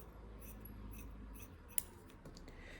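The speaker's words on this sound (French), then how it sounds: "Donc, je les coupe à la dimension." Scissors cut paper to size for a mini album, with faint, soft snips and a brief sharp crunch in a quiet room.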